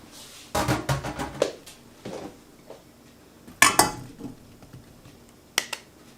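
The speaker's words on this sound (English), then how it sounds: "you're going to put them into your pan, being careful not to spill them" About two quarts of cut strawberries tumble into a cooking pan, giving a cluster of clattering, clinking knocks against the metal near the start. Scattered thuds follow, with another sharp clunk midway and a final tap, and no voices.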